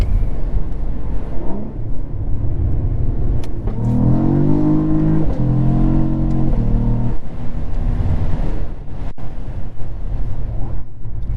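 A 2022 Cadillac CT4-V Blackwing revs hard in manual mode, its engine note climbing in a loud rising sweep, then stepping through quick upshifts heard from inside the cabin over a constant road roar.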